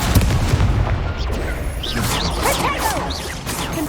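Confringo explosive spell cast in the wizarding game Hogwarts Legacy, heavy booming blasts and crashes with whooshing magic, layered with chaotic combat effects and squeals throughout.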